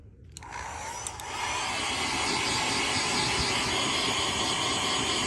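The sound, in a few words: blow dryer running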